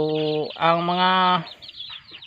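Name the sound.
chickens clucking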